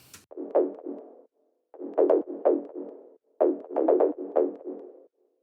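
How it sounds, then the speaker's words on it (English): A tech house top bass synth line with the low end cut out plays alone in short, punchy rhythmic phrases, grouped into bursts separated by brief gaps. "So then we have the top bass,"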